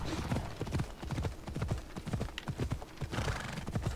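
Horse hooves clip-clop in a steady galloping rhythm as a rider travels in the video game Assassin's Creed Odyssey, continuous and fairly close for the whole stretch, with no talking.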